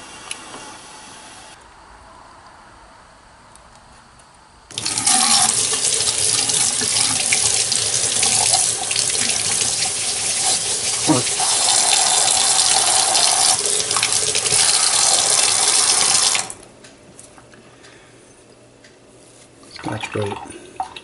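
A kitchen tap runs hard while a carbon steel blade is rinsed after patina work, a loud steady gush lasting about twelve seconds before shutting off, with faint handling sounds before and after.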